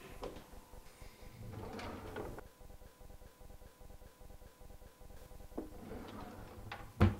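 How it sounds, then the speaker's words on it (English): Kitchen drawer sliding open and shut to put a knife away, a run of rapid ticking runner clicks between soft thumps, quiet and close with no voices. "you can simply open your drawer, put your knife away"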